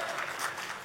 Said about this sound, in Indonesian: Kalau tepuk tangan lebih dahsyat lagi saudaraku.